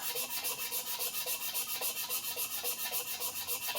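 Sandpaper rubbing back and forth on a Minamoto sujihiki kitchen knife blade, making a steady, rhythmic scratchy rasp with even strokes, close and fairly quiet, with no talk.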